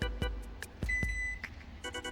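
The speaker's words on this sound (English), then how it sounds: "now you can turn off your timer." A kitchen timer for brownies baking in the oven gives one steady electronic beep of under half a second, with a few soft clicks and taps in a quiet kitchen around it.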